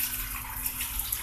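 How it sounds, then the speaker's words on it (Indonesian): A pump drains water from a chamber of an underground koi pond filter, producing a steady close rush of flowing water with no pauses. "Jadi saya harus menggunakan pompa untuk pengurasan di setiap chamber."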